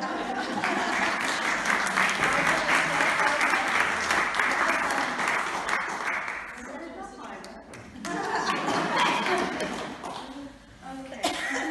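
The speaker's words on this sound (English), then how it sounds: "let's give them a clap" A crowd at an Essex Faith Covenant event at Farleigh Hospice gives a steady round of applause for several seconds, fading near the middle, with people talking and a chuckle rising through and after the clapping.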